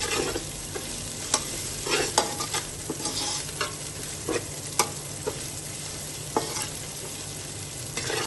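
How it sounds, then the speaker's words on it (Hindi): Onions and ginger garlic paste sizzle steadily in a hot pan, with a spoon stirring and scraping at irregular moments, close and moderately quiet. "इसको भी अच्छे से भून लेंगे प्याजों के साथ"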